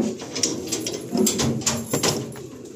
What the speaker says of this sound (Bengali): নেক্সট আমরা কি পেয়ার শখ করবো এখানে গোল্ডেন গোল্ডেন পায়রা